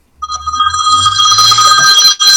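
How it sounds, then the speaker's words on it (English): A loud telephone ringer sounds for an incoming call, a harsh, piercing electronic ring that holds steady with one brief break near the end. No one speaks over it. "Super loud ringing noise."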